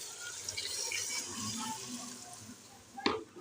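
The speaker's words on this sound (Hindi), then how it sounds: "इसमें मैं पानी ऐड करूँगी।" Water is poured into a pot of soaked lentils for beef haleem, a steady soft splashing rush that ends in a brief louder knock near the end.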